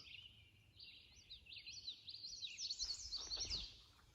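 Birds sing in the distance along the Appalachian Trail, a string of bright, warbling phrases rising and falling over quiet outdoor background hum.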